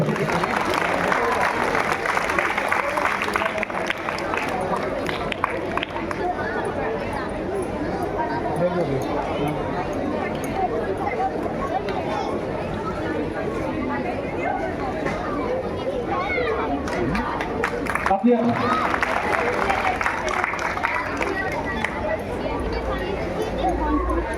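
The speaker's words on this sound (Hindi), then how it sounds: "जोरदार तालियां बच्चे के लिए।" Audience clapping loudly for a child actor who played the demon and the king at a Ramleela staging of the Ramayan coronation episode, a dense steady wash of applause and crowd noise running throughout with a brief dip near the end.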